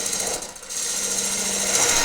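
Big hollowing cut on a wood lathe using a Woodcut ProForme tool, a steady close, loud broadband scraping hiss with a faint low hum running throughout.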